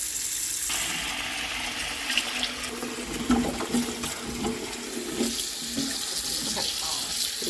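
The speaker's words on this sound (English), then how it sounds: "I'm filling up water over here on the celery" Water runs from a kitchen tap to fill a container for washing celery, making a loud, close, continuous splashing gush that holds steady for several seconds.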